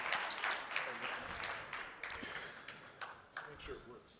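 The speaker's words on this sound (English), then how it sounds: "Everybody give a round of applause for Mr. Juan Tinoco." Audience applause following a speaker's introduction at a corporate talk, steady clapping from a crowd filling the whole moment, moderately loud.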